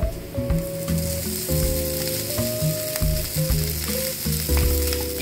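Rice tipped into a pan of frying garlic that has started to burn, giving a loud, steady sizzle with occasional scraping stirs, close up and alone without talk.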